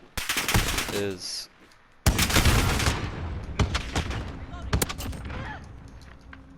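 AX-50 sniper rifle gunfire in Call of Duty Modern Warfare, loud sharp shots punctuating a busy game soundscape, with someone talking over the action.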